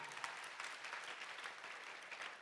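Audience applause after a speaker asks for a round of applause, a steady dense wash of many clapping hands lasting a couple of seconds at moderate level with no voices.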